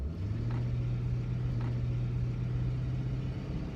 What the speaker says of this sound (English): that sounds to me like an exhaust manifold that's not even attached